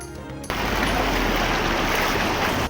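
Fast-flowing floodwater of the Sutlej river rushes in a loud, steady, broadband roar that starts abruptly and continues without pause, close and unbroken.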